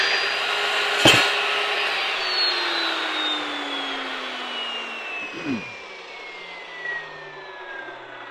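A carbide-tipped saw cuts steadily with a broad, rough whine, a sharp knock near the start and a pitch that slowly sinks as the blade loads; close and alone, with no talk.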